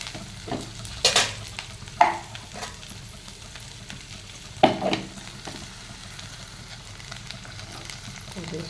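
Lentils tossed into a pan after garlic has softened, with a few sharp scraping stirs and brief crackling bursts over a low steady frying hiss, close and fairly quiet.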